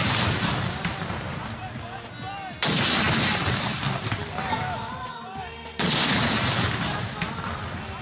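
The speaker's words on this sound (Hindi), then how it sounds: "31 तोपों की सलामी से दिन का आगाज हुआ।" Heavy cannon blasts of a 31-gun salute in Islamabad boom out about three seconds apart, each one loud and rumbling as it slowly decays.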